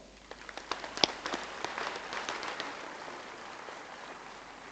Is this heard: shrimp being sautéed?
no